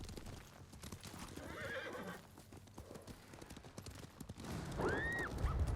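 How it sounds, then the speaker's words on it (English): A horse in the samurai game Ghost of Tsushima trots with soft, rapid hoofbeats, then gives a clear, fairly close neigh near the end, with muffled background voices and ambience. "there's me horse."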